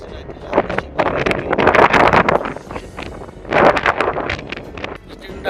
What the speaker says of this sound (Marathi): प्रचंड हवा असल्यामुळे मित्रांनो थोडासा आवाज क्लिअर येत नसेल, परंतु समजून घ्या, सह्याद्री हा असाच असतो, सुसाट वारा.